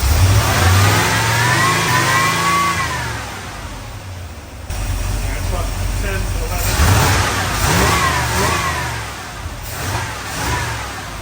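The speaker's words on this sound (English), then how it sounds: "let me see what happens when we go up to RPM in it" A crate V8 engine in a car revs up loudly from idle, climbing and falling in pitch in repeated surges, close to the microphone, with voices talking over it.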